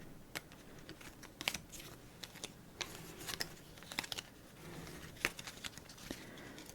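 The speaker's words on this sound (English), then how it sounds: "So, let's gather the cards." Playing cards are gathered up from a Montana (Gaps) solitaire layout in a quiet ASMR setting, making crisp clicks and light scrapes in irregular bursts, close and soft.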